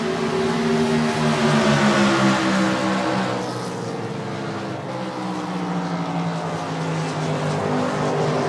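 Race cars battling on track in a sim racing game, a loud close engine roar with several overlapping tones shifting pitch as the cars jostle, sustained without letup.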